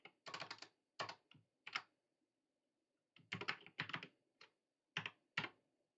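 Code typed on a computer keyboard, close quiet clicking keystrokes in two quick clusters separated by a brief pause, alone without talk.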